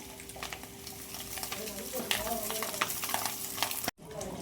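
Egg noodles with carrots stir-fried in a pan, a steady close sizzle with scraping stir strokes and a brief drop-out near the end.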